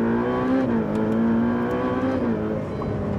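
A Ferrari F8 Tributo under full acceleration, heard from inside the car, a loud steady engine drone holding a high pitch with slight wavering and no talk.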